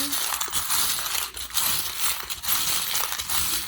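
Small hard charms rattle and clink together in a steady, busy jumble, like a handful being stirred and shuffled close by.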